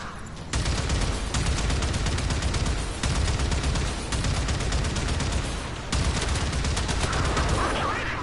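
A mounted turret in the game Warframe fires in long sustained bursts of rapid, loud, close-up shots with brief gaps between strings, and no talking.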